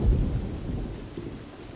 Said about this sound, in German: Und es regnet immer noch. Und blitzen tut's auch.